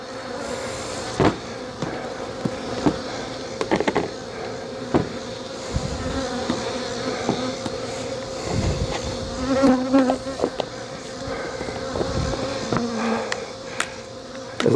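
Honey bees buzz around an open horizontal hive during an inspection, a steady close drone with occasional knocks and clicks of hive parts.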